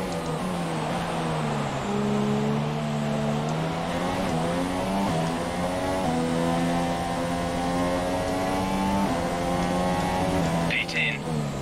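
Formula 1 race car engine in a racing video game at the Mexico or Brazil Grand Prix, a sustained high-pitched whine rising and shifting through gears across the whole stretch, loud and steady, with a voice talking over it.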